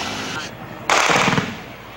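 A sharp burst of rapid gunfire erupts mid-clip during fighting between soldiers and Maute militants, loud and crackling, then echoes away into a low background hum.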